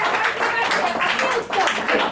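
An audience at a Gujarati religious discourse claps together in a dense, continuous patter of applause, loud and close, with a brief dip midway before it picks back up.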